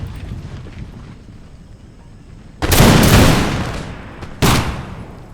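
Infantry musket volleys in a game battle between British East India Company troops and Maratha infantry: two loud, crackling massed volleys, the first rolling on for about a second and a half, the second sharper and shorter, over a quiet ambient background.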